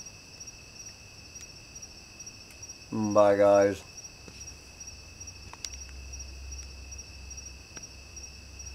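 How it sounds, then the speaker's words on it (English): Steady high-pitched cricket chirping fills a quiet night under a full moon, continuous and fairly faint, with someone briefly speaking a couple of words partway through. "listen to some crickets"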